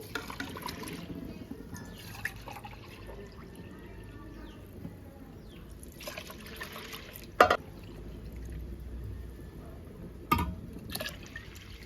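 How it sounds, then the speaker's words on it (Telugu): Four glasses of water poured into a cooking pot for coconut rice in a home kitchen: a quiet, steady trickle and splash with a few sharper clinks of the vessel against the pot, close by and with no talk. "నాలుగు గ్లాసులు నీళ్ళు వేసుకున్నా అండి దీంట్లో"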